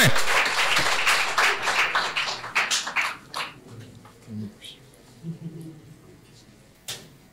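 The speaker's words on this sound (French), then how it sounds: "que je vous prie d'applaudir très fort, s'il vous plaît" Audience applause at the opening ceremony of a political movement's general assembly in Benin, a burst of many hands clapping that fades after a few seconds into scattered claps and a murmuring hall.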